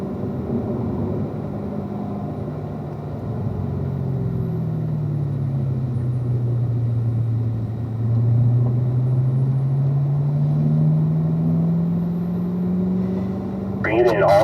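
Race cars on a cool down lap at Spring Mountain drone steadily with a low engine rumble whose pitch sags and rises again as they pass through turns, with a sharper burst near the end.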